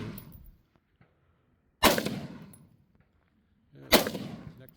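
Two loud, sharp gunshots fired at targets on an outdoor shooting range, spaced about two seconds apart, each with a long echoing decay into near silence.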